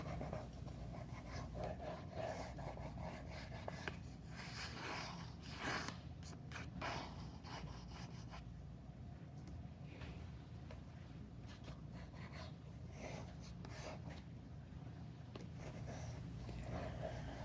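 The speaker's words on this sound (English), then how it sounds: "I'm starting with a pencil and a black china marker, just putting a few simple marks on the paper." A pencil and a black china marker scratch and rub across paper in faint, intermittent strokes against a low, steady background hum.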